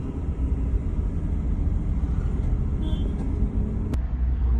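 Loaded vehicle pulling away on a journey from Arunachal toward Itanagar, a steady low engine and road rumble running throughout, with a brief sharp click near the end.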